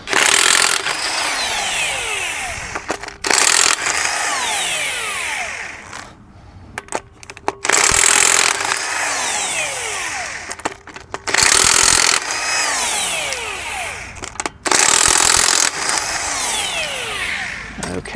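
An impact wrench hammers loose the lug nuts on a front wheel of a Hyundai Palisade, loud close rattling bursts of several seconds each with short pauses between them, and no one talking.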